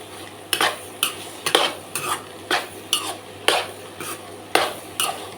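A spoon scrapes and stirs grated coconut into a broad bean and egg stir-fry in a pan, making about nine sharp, evenly spaced scraping strokes over a faint sizzle.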